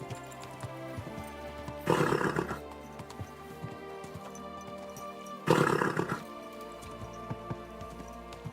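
A horse being ridden through a town in Kingdom Come Deliverance 2 gives two loud, close bursts of neighing or snorting, a few seconds apart, over a steady bed of game ambience.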